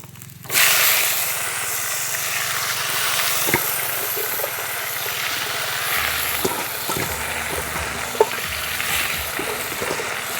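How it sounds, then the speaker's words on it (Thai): A pot cooking on a home stove with garlic in oil, giving a steady loud sizzling hiss with scattered pops and stirring clatter, alone without talk. "เดือดหม้อเลยเนาะ"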